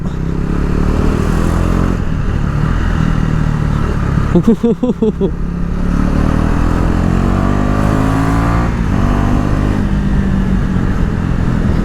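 A KTM Duke motorcycle with a barrel exhaust, warmed up after a cold start, idles with a steady deep rumble, then gives a short sharp rev blip midway before settling back to its even idle.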